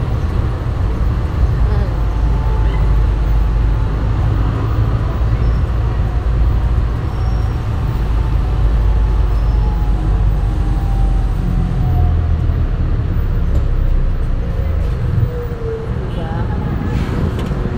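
Continuous road traffic rumbles along a busy street with parked vehicles, a tricycle passing among cars and buses in a steady, close, loud wash of engine noise while someone talks over it.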